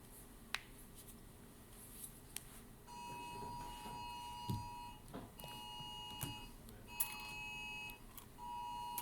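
A phone's electronic alert repeats in a lecture hall, steady tonal beeps in short bursts over a dull background hum, fairly faint and somewhat distant.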